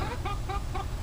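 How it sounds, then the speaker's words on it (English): Backyard chickens cluck in a short run of about four quick, close, moderately loud clucks over a steady low background hum. "Say hello, chickens."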